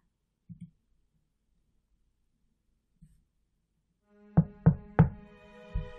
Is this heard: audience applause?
no